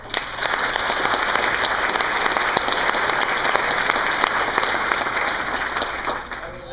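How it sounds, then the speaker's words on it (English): A crowd applauds new Pilgrim Degree recipients at an Ohio State Blues Association ceremony, a dense burst of clapping that holds steady for several seconds before starting to fade, with faint voices underneath. "Let's give them another round of applause."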